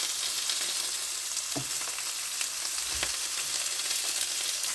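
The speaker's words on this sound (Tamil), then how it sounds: "இதில் வந்து நான் ஃப்ரை பண்ணிக்கிட்டு இருக்கேன் ஆனியன்." Onion frying in a pan with a little salt, a constant close hiss of sizzling oil with a couple of soft utensil knocks and no talking.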